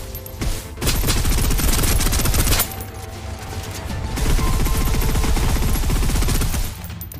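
Sustained automatic suppressive gunfire in the Snowbreak: Containment Zone shooter, loud and continuous with rapid repeated shots in long bursts, a brief lull near the middle before firing resumes at full intensity.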